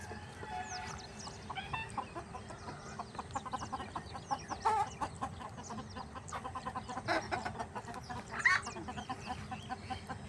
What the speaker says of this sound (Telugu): కోళ్ళు ఎందుకు బెదురుతున్నాయి